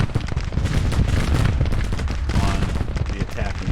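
Rapid, overlapping artillery and musket fire from a Civil War battery firing at will in Grand Tactician, dense booming bursts with no pause.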